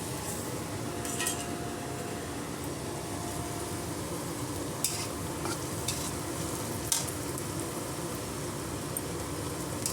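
Green chillies and curry leaves fry in hot oil, giving a steady, moderate sizzle with occasional spatters and light scrapes of a utensil against the pan, with no talking.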